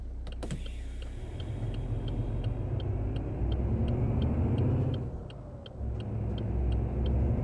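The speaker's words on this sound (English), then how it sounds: "Quite like the indicator noise as well." Turn indicator of a Ford F-MAX truck in Euro Truck Simulator 2, driving from Amsterdam to Brussels: steady, evenly spaced light ticks repeating through the clip over a continuous low engine rumble, with no talk.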